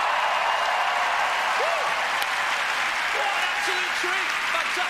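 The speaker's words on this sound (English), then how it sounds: "let's have an applause like you've just seen the Moulin Rouge" Steady, dense audience applause fills a theatre during an awards ceremony, sustained and even throughout with a few cheers and whoops rising from the crowd.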